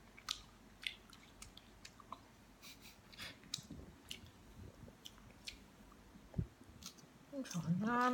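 Guava is bitten and chewed up close, with soft, wet, crunchy mouth sounds and faint clicks in an irregular rhythm, and a voice briefly rises near the end.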